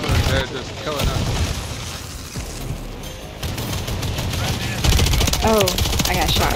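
Gunfire in Call of Duty arrives in bursts and sharp shots under a busy game soundtrack, with people talking excitedly over much of it.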